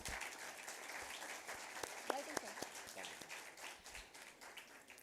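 An audience at an Independence Day launching ceremony claps in welcome, a moderate, uneven patter of hands with a few voices talking over it.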